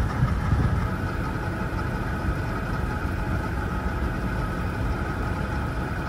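A Daikin single-split air conditioner on R32 refrigerant runs with a steady mid-low mechanical drone and hum, continuous and close, as the compressor struggles to load.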